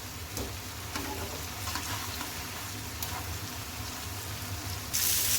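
Raw mince kebabs fry in a pan with a steady, fairly loud crackling sizzle, broken by a few soft bumps and scrapes as they are turned, ending in a brief louder burst.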